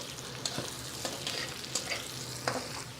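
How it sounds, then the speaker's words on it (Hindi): Onions frying in oil in a pan until light brown: a steady soft sizzle broken by irregular scraping clicks of stirring, fairly quiet and close. "चावल रखने के लिए मेरे ऑयल में मैंने प्याज लाइट ब्राउन करने के लिए रख दिया।"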